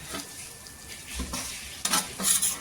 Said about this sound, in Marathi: ढाकण काढून असं हलवून घ्यायचं